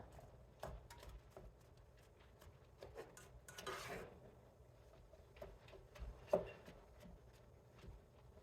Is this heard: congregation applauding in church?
no